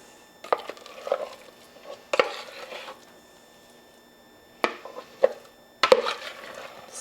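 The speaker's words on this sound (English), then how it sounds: "now we're gonna take the yummy tofu broccoli mixture and scoop it in" Tofu and broccoli mixture scooped into a bowl for a vegan potato leek quiche, a few soft scraping and clattering spoon strokes in separate bursts, close and fairly quiet with pauses between.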